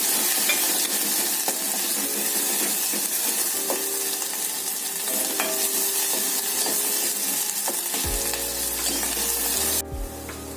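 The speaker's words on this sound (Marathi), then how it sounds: "आणि चांगलं परतून घेऊ आपण ते वाटण" Masala paste sizzling and being stirred in a pan while cooking a dried Bombil curry, a steady loud fry with scraping stirs throughout and a sharp change in tone near the end.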